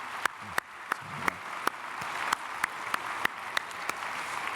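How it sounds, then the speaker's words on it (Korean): A church congregation claps in unison for the choir during a Sunday service, with sharp, evenly spaced beats about three per second, heard fairly quiet and slightly distant. "우리 찬양대 박수하겠습니다."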